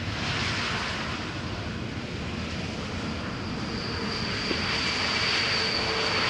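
A Pegasus Airbus A321neo airliner arriving from Istanbul at Amsterdam Schiphol Airport produces a steady, loud broadband jet roar with a faint high whine, constant throughout and with no voices.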